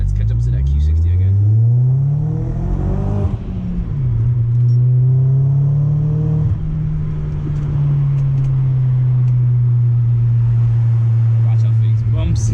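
Audi B6 A4 fitted with an ECS catback exhaust accelerating hard at night, a loud, close engine drone whose pitch rises through the gears, dips briefly at a shift, then holds a steady cruising rumble.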